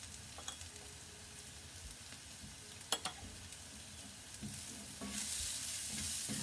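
Ground cumin and a little chili powder stirred in a frying pan for an egg and potato curry, faint scraping and soft sizzle with a couple of sharp clinks, the frying growing louder near the end.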